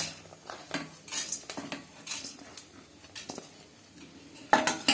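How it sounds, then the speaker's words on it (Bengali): Almonds and cashews being stirred in ghee in a pan, with a spoon scraping and clinking against the pan in repeated bursts, close and fairly quiet. "এগুলো কোনোটাই বেশি ভাজার দরকার হয় না, জাস্ট একটুখানি নাড়িয়ে নিলেই হবে।"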